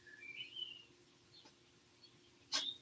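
Faint birds chirping outdoors, a few short high tweets scattered over quiet background hiss, with one louder, sharper chirp near the end.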